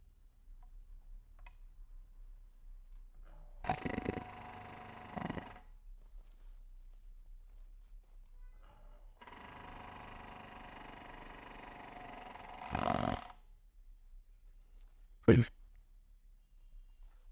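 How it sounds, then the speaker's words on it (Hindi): A bag closer machine stitches a trial seam on jeans fabric in two bursts of whirring motor noise, the second one longer, with clicks and a sharp snap near the end against a quiet background. "चलिए अब मैं ट्रायल लेके दिखाता हूँ ये मशीन जो है वो जीन्स पे चलता है"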